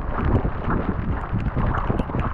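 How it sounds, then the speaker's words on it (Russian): Harsh wind sweeps across a frozen lake during winter ice fishing amid sleet, producing a loud, constant roar of microphone buffeting with no speech. "Крупа идет, ветер метет."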